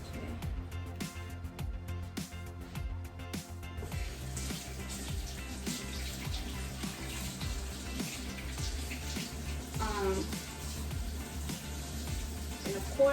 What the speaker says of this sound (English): I'm gonna wash these peppers out again.